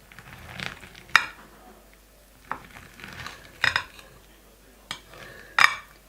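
A knife cuts through a cooled roll of cabbage and minced meat in several separate strokes, each ending in a sharp clink against a plate or board, with quiet gaps between them and no talk.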